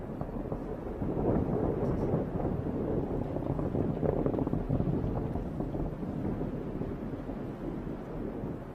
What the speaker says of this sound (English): There's a great close-up shot of those Merlin D engines getting ready to shut